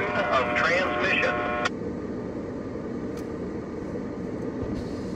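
A Brightline passenger train rolls past on the tracks, a steady broadband rumble and rush that follows a brief crackly radio voice at the start.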